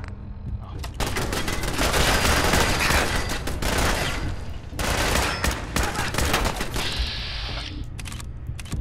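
Rifle fire in Fallout 4, loud rapid bursts of shots cracking in clusters with brief pauses between, the sound of a weapon emptying on a target.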